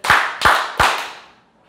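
Church congregation claps in unison three times, three sharp, evenly spaced group claps close together, each leaving a short ringing decay in the hall before silence.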